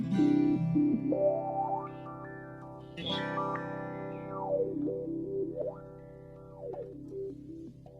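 A sustained synthesizer tone with its filter cutoff jumping and sweeping through stepped, random-sounding shifts from a Moog CP-251 sample and hold, heavily effected with chorus and echo, playing alone.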